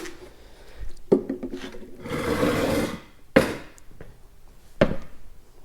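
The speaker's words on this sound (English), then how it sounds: "We're gonna clean our hood off." Cloth wiping a truck hood with rubbing alcohol, a few sharp rubbing bursts and one longer scrubbing pass, close and alone without talk.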